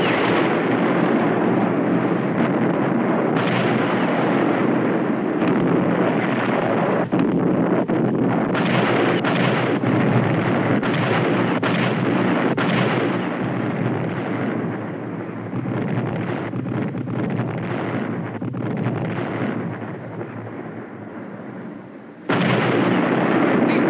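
Warship guns firing during a naval battle, a dense, sustained roar of heavy blasts and rumbling booms, loud and continuous, with brief dips before a renewed burst near the end.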